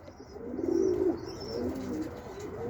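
Pigeons cooing nearby, a soft throaty coo swelling and fading twice in a low rolling rhythm, with faint higher bird chirps in the background and no talking.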